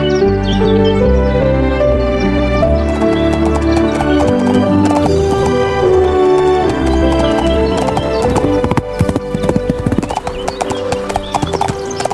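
Horse hooves clip-clop steadily in a trotting rhythm as a princess rides on her journey, with an occasional whinny, all beneath a continuous backing of music.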